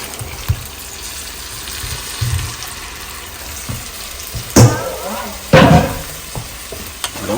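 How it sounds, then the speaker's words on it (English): Water is splashed into a pot of Jamaican curry chicken on the stove, giving short gushing pours and sizzling over a steady background hiss, with occasional stirring and clanking, and no talking. "Just add some water."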